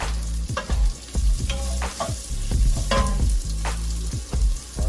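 Food sautés in a pan with loud close sizzling while utensils scrape and clatter against it, with no talking.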